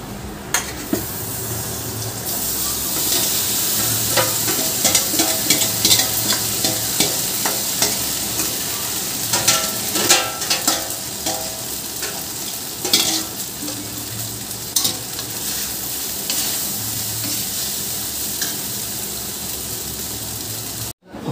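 Pasta cooking with Maggi masala in a pan gives a steady sizzle, with a spoon scraping and stirring around it all the way through. Sharper clinks and scrapes rise above the constant frying hiss, and no one speaks.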